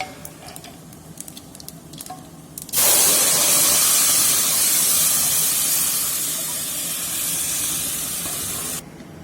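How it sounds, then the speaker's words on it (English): Lentil sambar with ghee and asafoetida bubbling in a pot: after a quiet start, a loud, steady sizzling hiss bursts in and runs for several seconds before cutting off abruptly. "While our sambar is boiling,"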